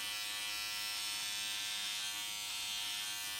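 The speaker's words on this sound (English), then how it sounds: "Okay, take it down to about a 6 on this trimmer." A high electric buzz from a beard trimmer set to a number 6 guard, running steadily and close through the whole moment as it cuts beard hair.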